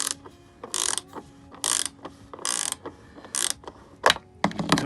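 A ratchet wrench loosens a nut on the input line of an RV toilet, giving close, loud bursts of rapid clicking in repeated strokes with short gaps between.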